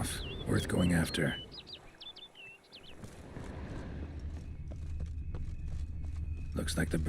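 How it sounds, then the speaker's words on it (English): A bird calls in a fantasy game world of The Witcher 3, a burst of quick chirps and tweets near the start over a soft outdoor ambience, with speech over parts of it. "Looks like the bird's leading me somewhere."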